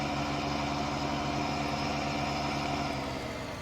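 A modded 1990 Chevy pickup or second-gen Ram 3500 with 240 horsepower in Farming Simulator 19 labors uphill at full throttle, its engine droning in a steady, loud, low hum that sags slightly toward the end.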